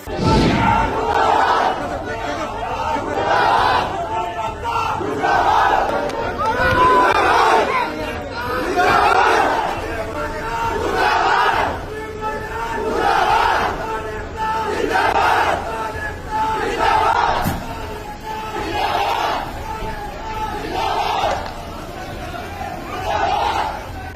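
A crowd of protesting farmers chants slogans against Union minister Sanjeev Balyan in a village gathering of khap leaders: loud, rhythmic call-and-response bursts of many voices, repeating steadily and close throughout.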